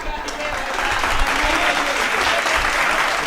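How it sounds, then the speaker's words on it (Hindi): Crowd clapping at a Hindi comedy poetry gathering, a thick, continuous burst of applause from many hands lasting a few seconds, loud and close. "एक बार ताली बजाओ।"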